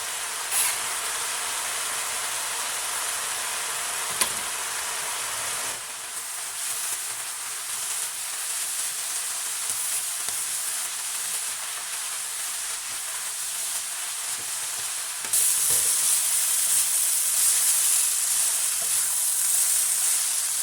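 Bean vermicelli stir-fries in a wok with pork filling, a steady moderate sizzle and steam hiss that carries on for about twenty seconds, briefly louder near the end, with no talking.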